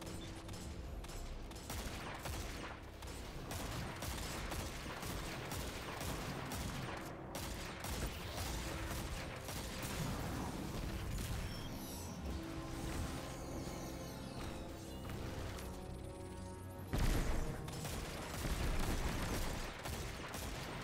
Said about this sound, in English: The big chunky assault rifle.